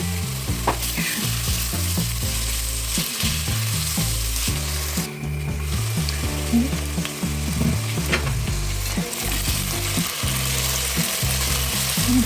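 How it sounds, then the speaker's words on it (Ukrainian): Carrots and potato pieces fry and sizzle loudly in a pan for a sausage ragout, with continuous frying noise and repeated scraping and knocking as they are stirred. "морковочку, помішуємо."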